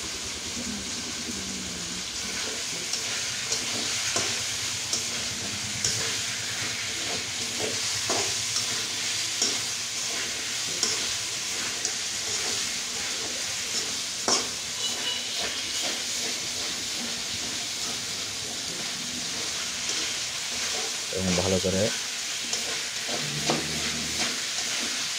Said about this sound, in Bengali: নাড়িয়ে দেওয়া হচ্ছে যাতে এগুলো কড়াইয়ের তলার সাথে লেগে পুড়ে না যায়।